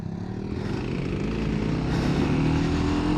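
A Kawasaki KLX300 dirt bike engine revs while riding San Diego backroads and trails, a close, loud and continuous buzzing drone that climbs gradually in pitch through the rev range, with no talking.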